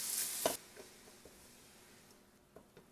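A cup of red wine poured into a hot pan of browned chicken for poulet chasseur hisses in a short loud burst, then settles into a faint, steady simmering crackle.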